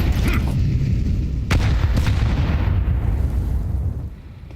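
Stacked grenades burst on a Counter-Strike map: several sharp, booming detonations in quick succession ring out over a dense low rumble that fades near the end.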